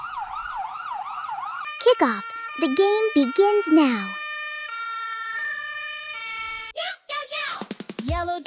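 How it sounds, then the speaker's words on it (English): Toy police car and fire truck sirens wail in alternating electronic tones, first a steady up-down siren alone, then shorter bursts and a fast warble interrupted by a child-like voice speaking. "Police car versus fire truck."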